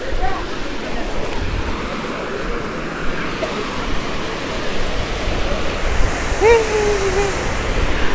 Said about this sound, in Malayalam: വെള്ളച്ചാട്ടം വരുന്ന വഴി